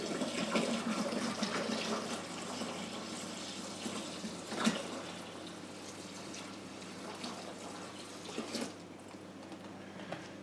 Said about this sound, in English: We're going to pour our next gallon of water down in here.